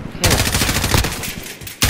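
Rapid automatic fire from an assault weapon in a multiplayer shooter video game, a loud continuous burst of gunshots lasting over a second and a half before cutting off abruptly.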